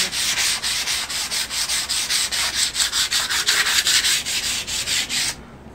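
Rough wood for a desk is sanded by hand in quick, rhythmic back-and-forth strokes, roughly five or six per second. The raspy sound is close and even, with no talk, and stops abruptly near the end.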